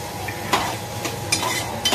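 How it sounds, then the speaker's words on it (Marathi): Onion fries in a pan, a soft steady sizzle under repeated scraping clinks of a spoon stirring against the metal, close up and free of speech. "कांदा चांगला लाल तांबूस होऊ द्या."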